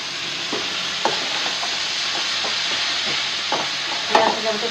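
Red amaranth greens with green chillies stir-fry in a pan, a constant loud sizzle broken by a few scraping stirs and one sharper clatter near the end, no voices.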